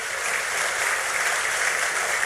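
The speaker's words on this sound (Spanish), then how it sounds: "dale un aplauso fuerte al Señor" Applause from a church congregation during a Spanish-language sermon, a steady, dense wash of clapping that holds evenly throughout with no voices over it.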